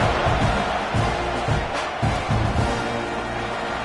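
A stadium crowd at a college football game between Oregon and Texas A&M roars steadily before a kickoff, a broad continuous wash of noise with faint pulses and no clear individual voices.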